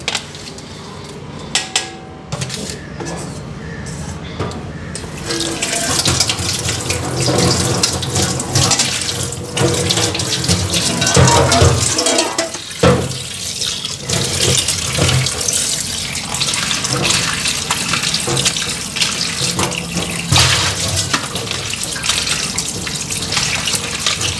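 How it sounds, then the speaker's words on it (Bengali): Tap water runs steadily into a sink while freshly cut small fish are rinsed, with clinks of pots and utensils and splashing under the continuous flow. "মাছ কাটা হয়ে গেল, মাছগুলি এখন ধুইয়া নি"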